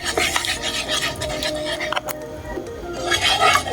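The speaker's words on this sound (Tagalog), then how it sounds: "Mix all together ko muna." Spoon stirring a half kilo of sugar mixture in a pot for chocolate ice candy, a gritty, scraping rasp that repeats in uneven strokes up close, fairly loud with no voice.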